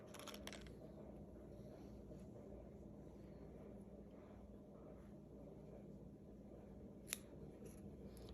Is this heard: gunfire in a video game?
no